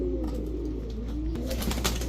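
Giribaj high flyer pigeons, including an orange chila male, coo in a low soft repeated rumble over steady background hum, with no talk.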